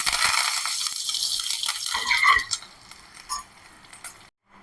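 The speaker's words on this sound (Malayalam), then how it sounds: "അതേ കടുക് പൊട്ടിയിട്ടുണ്ട് കേട്ടോ." Mustard seeds, urad dal, chana dal, dried chillies and curry leaves crackle and sputter in hot oil in a pan, a dense close fizzing with small pops that fades toward the end.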